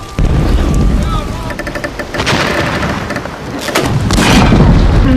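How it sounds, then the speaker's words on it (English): Heavy booms of a ship's guns firing in a film battle scene, loud and continuous with rumbling blasts, crashing debris and shouting voices mixed in. "Did you feel it? When the guns fired."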